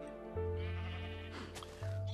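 Sheep bleating in the Minecraft game, two loud, drawn-out synthetic bleats, the second following after a short pause, with no talking over them.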